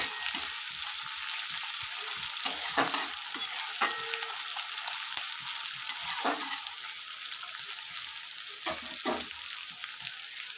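Onions frying in hot oil hiss steadily up close, with repeated scraping and clatter from stirring at irregular intervals throughout.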